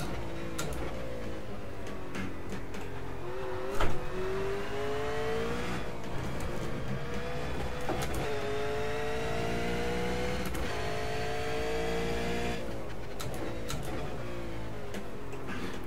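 A Commodore V8 car engine in a racing video game drones loudly and steadily, its pitch climbing repeatedly as it revs through the gears, with brief shift breaks in between and no talk.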